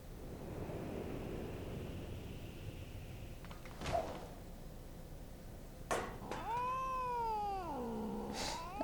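A cat meows during a video game cutscene in Alexander Midas 4, with a few rising and falling cries near the end over a steady hiss of ambient sound and some sharp clicks.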